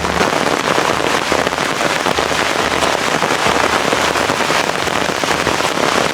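Heavy rain patters loudly and continuously on surfaces nearby in a rubber plantation in Mymensingh, a dense crackling hiss with no voices.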